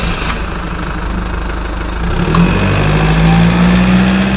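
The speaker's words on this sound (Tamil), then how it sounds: "என்னது நம்ம ரெசார்ட் முன்னாடி ஏதோ வண்டி நிக்கிற மாதிரி தெரியுது" A cartoon vehicle's engine rumbles steadily and loudly as it pulls up in front of a resort, growing heavier and slightly louder partway through, with no talking.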